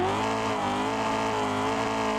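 A drifting car in Assetto Corsa holds a loud, continuous engine drone with sustained tire squeal, a steady high-revving sound with no talk over it.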